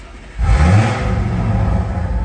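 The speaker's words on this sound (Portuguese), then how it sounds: "Que absurdo que tá esse ronco desse carro, maravilhoso." A 2021 Audi RS4 engine roars loudly and close by, rising sharply in a rev after a brief lower idle, then holding a deep, rumbling growl.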